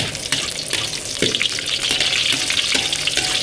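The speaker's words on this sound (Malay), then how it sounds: "Kita main goreng ikan masin dulu mula-mula." Salted fish fries in hot oil in a home kitchen, giving a loud, steady sizzle and crackle with scattered pops and a few clinks from stirring, and no one speaks.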